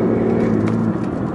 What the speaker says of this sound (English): because I gave a little bit of a boot, the engine's come in